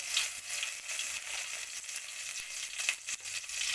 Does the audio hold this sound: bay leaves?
yes